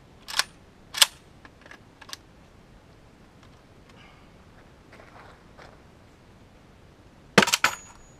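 An Xtech AK-47 magazine drops out during a drop test, heard as a few sharp, close clacks spread across a quiet stretch and ending in a loud cluster of clattering impacts, with no talking.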